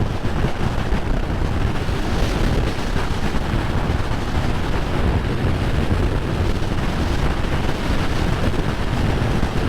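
Steady, heavy wind roar buffets the microphone of a motorcycle cruising at about 100 km/h on a straight road through a windy valley in the hills, with a dense, unbroken rush throughout.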